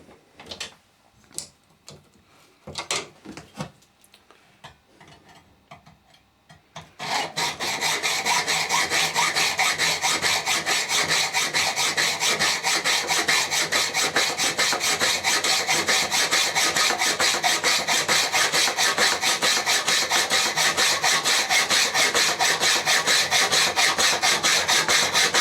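A hand saw cuts through clamped threaded steel rod. A few scattered knocks and scrapes come first, then steady, loud, rapid back-and-forth sawing runs unbroken for nearly twenty seconds, close to the listener, with no talking.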